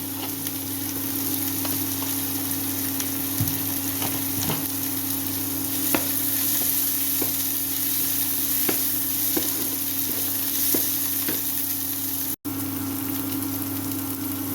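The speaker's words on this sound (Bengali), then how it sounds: "আমার পেঁয়াজ লাল লাল করে ভাজা হয়ে গেছে" Onions fry in a pan until browned, a steady, even sizzle that runs throughout with a few light clicks and taps from the pan, close and moderately loud, with no voices.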